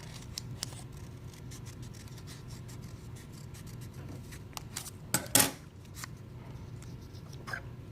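Scissors snip through folded paper in quiet, short crisp cuts, with a louder burst of snipping near the middle and soft rustling between strokes.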